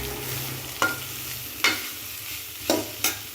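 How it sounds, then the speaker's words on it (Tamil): A spatula stirs grated beetroot stir-fry in a hot pan, making four sharp scraping knocks spaced unevenly over a soft background sizzle. The sounds are close and clear, with no talking. "இப்போது சேர்த்துட்டு நல்லா கலரி விட்டுக்கோங்க."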